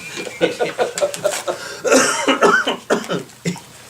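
Repeated harsh coughing in short bursts, close and loud, a rapid series of throaty hacks with brief pauses between fits.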